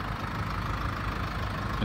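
A 2013 Land Rover Range Rover Evoque with the 2.2 SD4 diesel engine idles steadily, a close, even low rumble with a faint knocking texture and no voices.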